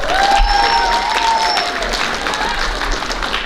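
Banquet audience applauding the golf teams at a school athletic banquet, a dense, steady wash of clapping at fairly close range that holds throughout, with a faint tonal whistle or voice line drifting above it.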